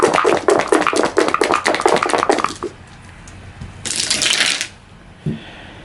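Several dice clatter down through a dice tower after being tipped from a dice cup during a Star Wars Outer Rim board game, a dense, rapid run of close plastic clicks, a short pause, then a second brief rattle and a final tap.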